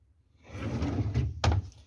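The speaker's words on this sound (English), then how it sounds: "These drawers are full of" A drawer full of school stationery slides open or shut with a low rumbling glide and a sharp knock near the end, close and moderately loud, with no talk.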